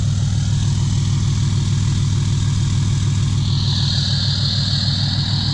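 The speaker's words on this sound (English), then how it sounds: "Just listen to that exhaust." A tuned 2014 Dodge Ram 2500 with a six-speed manual and full exhaust idles loud and close, a steady deep rumble with a constant throb and an added hiss partway through.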